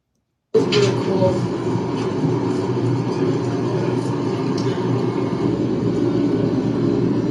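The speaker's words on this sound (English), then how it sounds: "the aircraft engine is getting started" A Qatar Airways airliner's engine starts up and settles into a steady, loud whine and rumble heard from inside the cabin, beginning abruptly after a moment of quiet and holding constant throughout.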